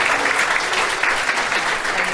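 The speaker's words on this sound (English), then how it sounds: "Let's give one more clap for" Loud, sustained applause from an International Women's Day event audience for a speaker, a thick unbroken wash of many hands clapping at close range.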